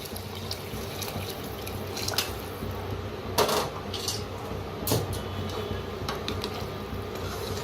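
Hot water pours into a spiced rice mixture in a pot, a continuous liquid wash broken by a few sharp clinks and knocks of utensils against the vessel.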